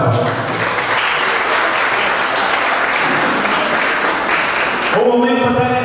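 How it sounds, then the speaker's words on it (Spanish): A loud, sustained ovation from the audience honors graduating students at the closing ceremony of an international cooking workshop, then breaks off near the end as a voice begins. "así que para cada uno de ellos, un fuerte aplauso"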